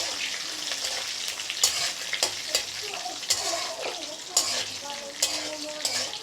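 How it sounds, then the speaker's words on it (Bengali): Whole fennel seeds, cumin and panch phoron fry in hot oil with a steady close sizzle, broken by sharp clicks and scrapes of a spoon stirring the pan. "দিয়ে দেবো মৌরি, দিয়ে দেবো গোটা জিরে, দিয়ে দেবো পাঁচফোড়ন। এখন একটু ভেজে নেব।"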